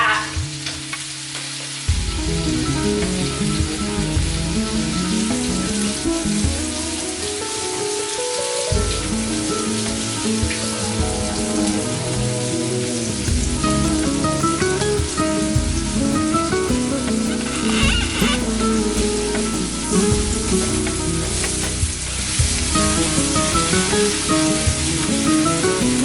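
Chorizo sizzling and frying in olive oil in a paella pan, a steady, close crackle with stirring sounds that carries on loudly throughout with no talk.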